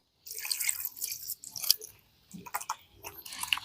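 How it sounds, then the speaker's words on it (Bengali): Grated potatoes being rinsed in a bowl of water by hand, giving close, wet sloshing and dripping squelches in irregular bursts with a brief pause midway. "এই কষটাকে খুব ভালো করে জল দিয়ে ধুয়ে পরিষ্কার করে নিতে হবে"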